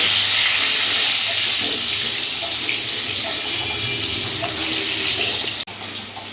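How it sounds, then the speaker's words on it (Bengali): Potatoes seasoned with salt and turmeric fry in hot oil for a thin mutton curry, giving a steady, close, continuous sizzling hiss that holds even throughout, with a brief dip near the end. "এবার আলুটা আমি ভালো করে ভেজে নেব"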